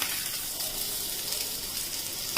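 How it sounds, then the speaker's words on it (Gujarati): Vegetables sauté with curry leaves in hot oil, a dense steady sizzle close up and fairly loud throughout, with one brief scrape near the end and no voices. "બધા વેજીટેબલ્સ છે ને આપણે એમાં થોડીક વાર સોતે કરી નાખશું"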